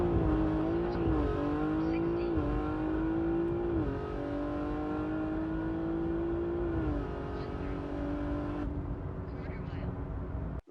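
A tuned BMW G80 M3 with a stage 2 package accelerates hard on a prepped quarter mile drag strip, its engine note rising loudly and climbing in pitch through several quick gear shifts before easing off near the end.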